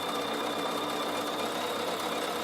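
A Bernina sewing machine runs a long straight stitch along the raw edge of fabric, a loud, dense, continuous motor hum with fine rapid vibration, close up and alone.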